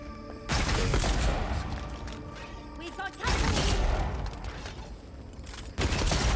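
Shooting in the fantasy action game Avowed, a few heavy blasts with dense crackling, mechanical clatter and rumbling tails, loud and close, layered with busy combat noise and game audio.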